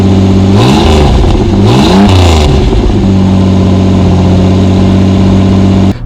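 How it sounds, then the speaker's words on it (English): A Pontiac Fiero engine drones loudly up close while driving, revving up and down a few times early on before settling into a steady cruising hum. "we're straight into driving the car already"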